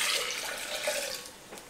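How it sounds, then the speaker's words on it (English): Lemon juice pouring into a blender for a strawberry lemonade cooler, a steady liquid splash and trickle running throughout at moderate level with no voices. "So we're gonna take our cup of lemon juice and pour it into the blender."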